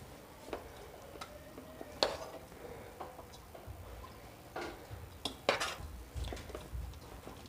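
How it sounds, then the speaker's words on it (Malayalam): A spoon scrapes and clatters against a pot while rice is stirred into prawn biryani masala, giving scattered, irregular clinks and knocks at close range over a quiet background. "എന്നിട്ട് നല്ലവണ്ണം ഒന്ന് ഇളക്കി കൊടുക്കാം."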